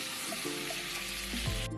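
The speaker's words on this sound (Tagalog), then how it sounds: "So ayan na, medyo kumukulo na." Soft, steady bubbling and hiss from a simmering pot of kaldereta stew, fairly quiet and continuous.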